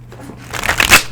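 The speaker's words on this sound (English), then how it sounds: "Bear with me as I shuffle" A single close, crisp riffle of a deck of cards being shuffled. The soft flutter builds to a quick snappy burst, with no talking over it.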